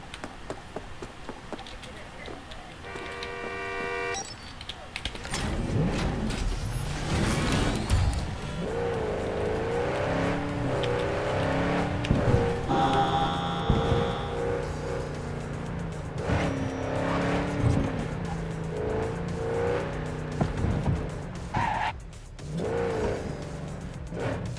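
A summoned car in Cyberpunk 2077 pulls up and drives off, its engine revving and rising in pitch with a brief tire squeal, loud and close and continuous over about twenty seconds, with faint game sounds underneath.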